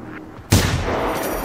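A single sharp gunshot rings out in the video game Generation Zero. It is loud and sudden after a quiet moment and leaves a rumbling tail.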